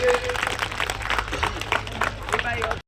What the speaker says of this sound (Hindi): जोरदार ताली बजा करके प्रदीप जी का स्वागत करिए